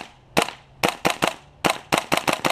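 An airsoft M4 rifle fitted with a WE steel hop-up unit fires a rapid string of sharp, loud shots in irregular bursts, close by, with no talking.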